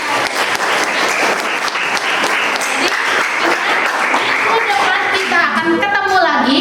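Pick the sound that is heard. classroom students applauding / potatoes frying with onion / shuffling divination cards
classroom students applauding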